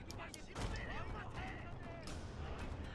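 Artillery and gunfire in a video game, with dull booms and crackling shots under a steady background rumble, while people talk over it.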